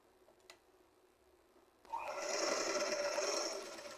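A sewing machine stitches fabric in a quick steady whirring burst of about two seconds, close and fairly quiet, after a faint click and near silence.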